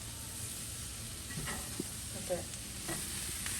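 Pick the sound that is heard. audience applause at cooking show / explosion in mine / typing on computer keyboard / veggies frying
veggies frying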